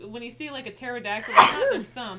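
One sharp sneeze bursts out in the middle of ongoing conversational speech, loud and close, with voices talking before and after it.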